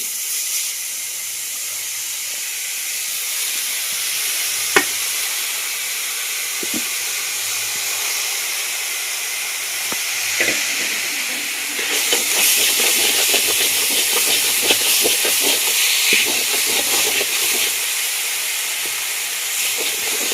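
Banana flower sizzles in hot oil in a pan along with garlic paste, chilli powder and fried peanuts, a loud continuous close frying hiss that grows busier and crackles more partway through, with occasional small clicks.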